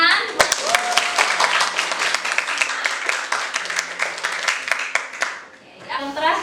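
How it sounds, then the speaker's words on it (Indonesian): A biology class breaks into applause, with crisp individual hand claps rapidly at first and then thinning, a few voices and children's chatter underneath, then a teacher's voice toward the end. "Terima kasih Ica, tepuk tangan."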